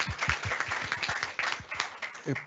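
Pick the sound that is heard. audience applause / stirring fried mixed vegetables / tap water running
audience applause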